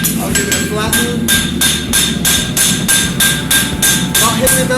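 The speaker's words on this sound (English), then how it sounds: "I'm polishing and flattening the surface by overlapping my hammer blows" A hammer beats a horseshoe flat on an anvil with rapid, evenly spaced ringing blows, about three per second, loud and close and continuing through the whole stretch.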